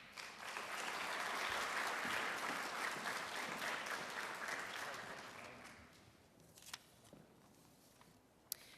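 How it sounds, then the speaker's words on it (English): Audience applause at a 2017 armed services awards ceremony honoring graduating seniors headed for military service, a dense crowd clapping that holds for several seconds and then fades, followed by a few scattered claps and small noises. "let us have one more round of applause for our graduating seniors and future servicemen and women"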